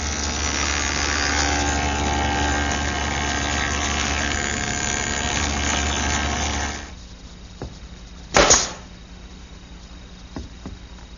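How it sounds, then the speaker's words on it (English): Table saw fitted with a molding head cutter shaping a small bead on wooden molding, a loud steady roar of cutting that stops abruptly partway through, followed by quiet with a few faint knocks and one short sharp clatter. "Now with the molding head cutter reinstalled in the table saw and a cutter which will make a small bead, I'll form the bottom of the molding"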